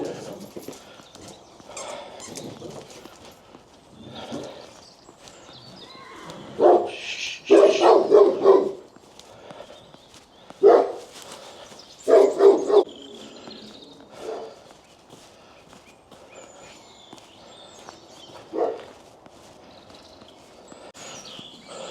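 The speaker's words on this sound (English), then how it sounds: "that dog you can hear is absolutely huge, and he's in the biggest cage or kennel I've ever seen" A huge dog in a very large cage or kennel barks in scattered deep bursts, some single and some in quick clusters, fairly close and loud over quieter shuffling and outdoor background noise.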